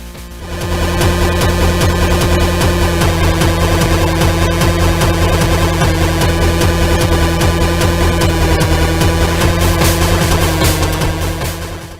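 Loud, dense chiptune music with busy bleeping square-wave melodies and buzzing bass plays continuously from a Game Boy Color racing game port, fading in at the start and cutting off at the end.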